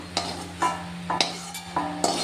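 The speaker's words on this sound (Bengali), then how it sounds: "এইভাবে এটাকে ধীরে ধীরে ভাজা করতে হবে" Fish-roe fritters fry in a pan with a low sizzle, interrupted by a series of regular scraping stirs and light clinks of a utensil against the pan, about four or five strokes, close up.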